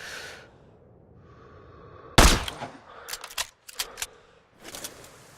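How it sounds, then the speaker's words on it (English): A sniper rifle fires in the video game Sniper Ghost Warrior 3: one loud, sharp shot cracks out after a quiet stretch, followed by a few bursts of bolt clatter and mechanical handling noise, with no speech. "Check the wind and pull the trigger."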